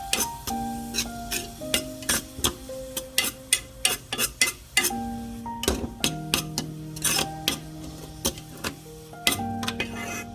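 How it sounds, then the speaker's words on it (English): Ground pork and aromatics are stirred non-stop in a wok, with repeated sharp scraping and clacking strokes in an uneven rhythm over a faint background hum, close and fairly loud. "When the meat is fully cooked, add aromatics in, and stir non-stop."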